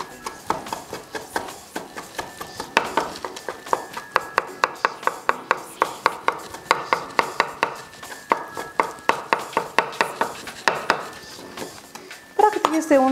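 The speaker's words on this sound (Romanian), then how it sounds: "Tăiem și somonul" A kitchen knife chops smoked salmon finely on a board, a fast run of sharp, evenly spaced knocks close by that carries on steadily, with a brief clatter of dishes near the end.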